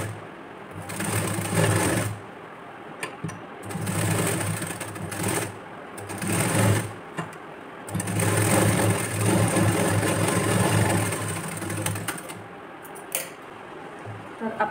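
A sewing machine stitches the neckline and side piece of a 32-size blouse, running in loud bursts of steady whirring separated by short pauses.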